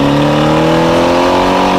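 A loud convertible race car coasts downhill on a back road, its engine a close, steady, throaty rumble with strong harmonic tones and no talking.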